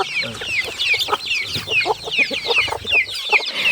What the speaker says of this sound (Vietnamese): Gà con nó vào vườn lắm.